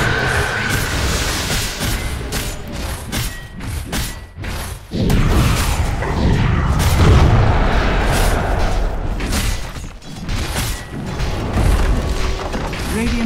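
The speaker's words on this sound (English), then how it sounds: "Radiant's bottom barracks are under attack" Barracks being destroyed in Dota 2 set off a series of heavy booms, thuds and crashing impacts in a dense, loud battle mix. Short gaps fall between bursts, and speech is faintly present.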